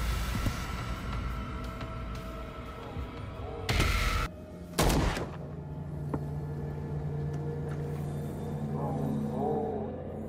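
Gunfire from the video game Call of Cthulhu: two loud, short blasts, close together over a low, murky game ambience.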